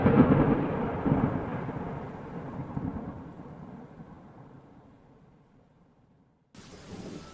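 A thunderstorm with rain: a loud thunder roll opens and slowly fades under a steady hiss of rainfall, which drops away briefly before the rain returns.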